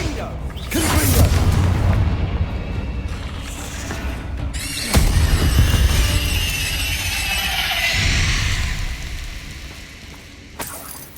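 Confringo blasting spells bursting in Hogwarts Legacy, loud booms near the start and again midway, each trailing into crackling, shimmering debris and rumble over a busy battle backdrop.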